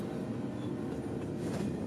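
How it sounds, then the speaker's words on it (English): A southbound freight train in central Georgia, led by two Union Pacific GE locomotives, rumbles past with a steady low roar and rolling rail noise, fairly faint and continuous. "two Union Pacific GEs would lead this train south"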